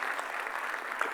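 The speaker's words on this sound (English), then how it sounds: "You can clap if you want." Audience members at a tax seminar clap steadily for a short stretch, a dense, even patter of many hands with no voices over it.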